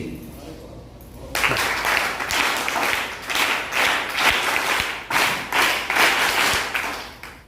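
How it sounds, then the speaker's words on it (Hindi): After a quieter opening moment, a training-session group in a hall bursts into a special patterned clap, loud sharp volleys in a repeating rhythm of grouped claps, clearly spaced and sustained for several seconds. "स्पेशल ताली हम लोग बजाते हैं जी बजाते हैं सभी लोग"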